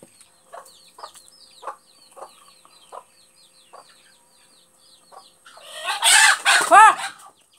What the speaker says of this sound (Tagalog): Away ang manok guys.